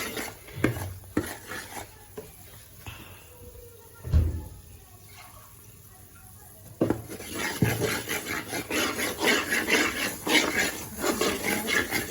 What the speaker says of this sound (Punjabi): ਹੁਣ ਆਪਾਂ ਵਿੱਚ ਪਾਵਾਂਗੇ ਦੁੱਧ ਇਹ ਆਪਾਂ ਕਰੀਮ ਤਿਆਰ ਕਰਦੇ ਆ